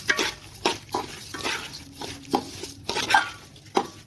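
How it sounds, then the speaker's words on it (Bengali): Pulao rice fried in oil in a pot for golden chicken pulao, stirred with a spoon in a series of separate scraping and clanking strokes, close and moderately loud, about one every half second. "এবার আমি চালটা ভালো করে ধরে নেব"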